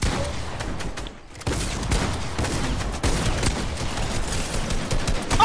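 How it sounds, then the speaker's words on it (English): A sniper rifle shot in the game Fortnite cuts through a steady din of gunfire, and sharp individual cracks stand out from a dense, rattling firefight. "Someone sniped me from 40 miles."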